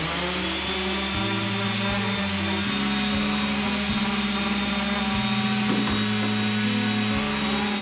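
A random orbit sander whirs with a loud high-pitched motor whine as it sands the ends of PVC pipe for kayak rod holders, pitch stepping slightly as the sander is pressed on and eased off.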